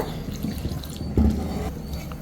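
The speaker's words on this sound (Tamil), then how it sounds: "தண்ணி கொஞ்சம் கொஞ்சமாக ஊற்றி கலந்துக்கோங்க" Water trickles and splashes in small additions into a multigrain wheat flour mixture with crushed cardamom for tea-stall bonda batter, a close, steady wet pouring sound with a brief louder gush midway.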